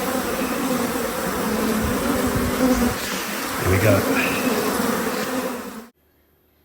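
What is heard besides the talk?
honeybees buzzing at an open hive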